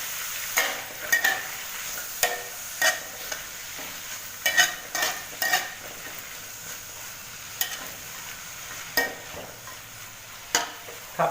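Squid being stir-fried in a hot pan with stink beans and shrimp paste, a steady sizzle broken by repeated clattering scrapes of a spatula against the pan at an uneven rhythm, close and clear with no voices.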